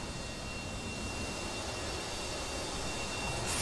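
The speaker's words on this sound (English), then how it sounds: "engine's coming up now" An AJS 37 Viggen jet engine spools up in a flight video game, a steady, quiet whooshing roar that swells slightly toward the end, with no talking.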